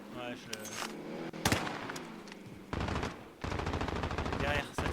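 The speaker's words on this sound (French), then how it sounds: "Derrière, ça tire derrière." Rapid automatic gunfire in the video game Call of Duty Warzone, dense bursts of shots close by in several volleys, with voices talking over it.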